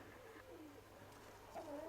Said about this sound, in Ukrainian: Два голуби прийшли